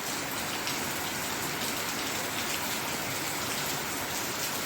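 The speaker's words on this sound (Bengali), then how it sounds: "এত জোরে নেমে গেল বৃষ্টিটা।" Heavy rain pours down steadily and loudly, a dense, unbroken hiss of drops striking surfaces close by, with no voices over it.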